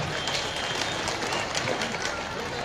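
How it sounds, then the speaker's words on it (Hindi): Audience at a women's political gathering clapping, a continuous crackling wash of applause with crowd noise mixed in and faint voices beneath. "और आप खुद के लिए भी और मंच आपके लिए ताली बजाए"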